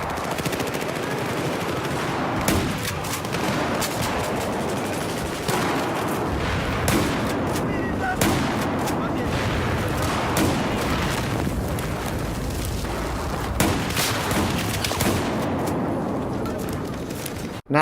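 Gunfire in Battlefield 4 with a Remington 870 shotgun at point-blank range while clearing a building, dense continuous shots and blasts throughout, loud and close, mixed with other combat noise.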